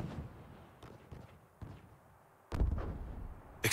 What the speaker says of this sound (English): Explosions? A battle? Yes. It would seem that someone's fighting up ahead.